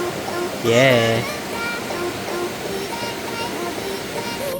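River current flowing near Sinulom Falls in Misamis Oriental, Philippines, a steady broadband rush of water heard throughout, with a person briefly speaking over it.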